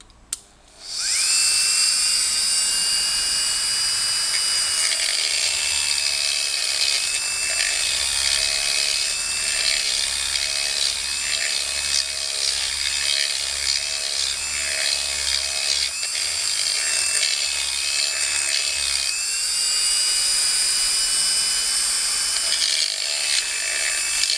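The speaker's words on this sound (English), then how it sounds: "Just going to use my Dremel with a sanding drum." A high-pitched Dremel rotary tool with a sanding drum whines steadily for a long stretch, its pitch wavering slightly as it sands rust off a painted metal surface, loud and close.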